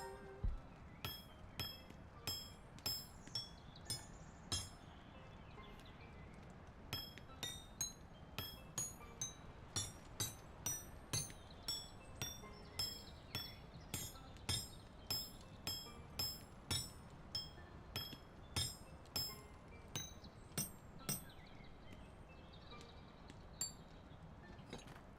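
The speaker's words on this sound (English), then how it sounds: "A lot of hammering." Steady blows of a blacksmith's hammer ring out on hot metal in a medieval-style forge, sharp bright clangs repeating at an even rhythm about once a second, close and clear over a faint background.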